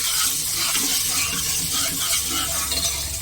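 Turmeric sizzles steadily in hot oil in a pan while being stirred, a loud, close, continuous hiss and crackle with faint scraping, no voices.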